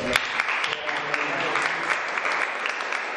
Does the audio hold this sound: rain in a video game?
no